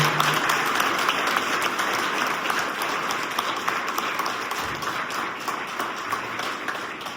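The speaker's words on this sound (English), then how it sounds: "Let's give Ty a big round of applause for pushing himself." Steady audience applause at a fire department award and promotion ceremony, dense clapping from a large crowd sustained for several seconds without speech.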